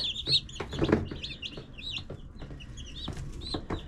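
A brood of nineteen newly hatched chicks peep and chirp under a heat lamp, a busy overlapping chorus of high, close calls with a few louder cheeps and light scuffling, no voices.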